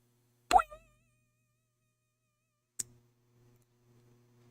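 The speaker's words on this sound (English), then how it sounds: "I messed up because I clicked my pen." A single sharp pen click stands out, followed by a quieter second click, against a faint hum in an otherwise quiet room.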